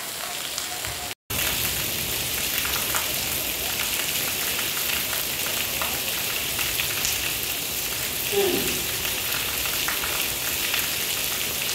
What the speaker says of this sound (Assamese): আজি বৰষুণৰ বতৰ